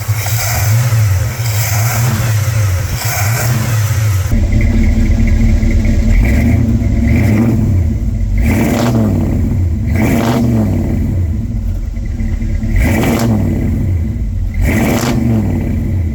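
A 1986 Chevy C10 pickup with repaired exhaust and headers rumbles at idle up close, then revs loudly in a series of rising and falling bursts.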